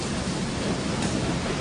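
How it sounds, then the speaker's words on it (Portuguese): Waves beat against a boat as a continuous loud, broadband wash of rushing water with no breaks. Nothing else can be heard above it. "E as ondas batiam com força no barco"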